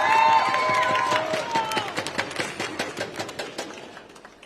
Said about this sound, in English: He gets a warm round of applause.